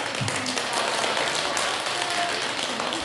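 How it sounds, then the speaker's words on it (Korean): Audience applause fills a hall at a Won Buddhist Dharma Authentication Day prayer service, thanking the group that provided the meal offering: steady, dense clapping from many hands that carries evenly through the whole stretch. "정진단께 감사의 박수"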